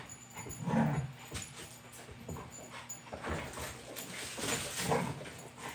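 Dogs whimpering and whining in short bursts, with panting and small yips, moderately quiet and close by.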